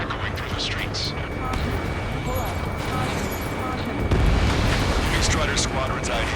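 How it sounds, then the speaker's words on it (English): Dense rumbling booms, gunfire and roaring jets from an Ace Combat battle over a city under martial law, loud and continuous throughout, with voices mixed into the din. "Gunfire and the roar of jets echoing through the streets."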